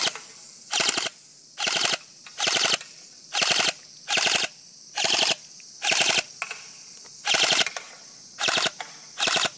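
A Systema PTW airsoft rifle running on an 11.1V Li-Po battery fires repeated full-auto bursts, about eleven short sharp rattling volleys spaced evenly apart, loud and close with quiet gaps between them.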